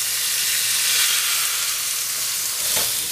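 Meat browns in a hot pan with a loud, continuous close-up sizzle that holds steady throughout, with no voices.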